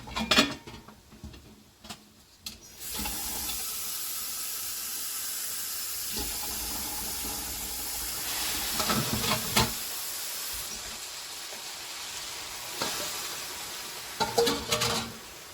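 Water poured into a pot of Cameroonian fried rice sets off a steady hiss of steam and sizzling that rises and falls, with a few clinks of a utensil against the pot near the start and end.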